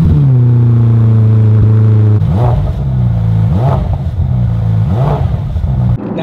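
Ferrari F8 Tributo V8 engine under way on the road, a loud close engine note that climbs steadily in pitch through each gear and falls back at a few quick shifts, no voices.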